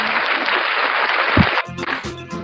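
Students in a primary school science class applaud, a short burst of clapping that stops abruptly, followed by a voice speaking.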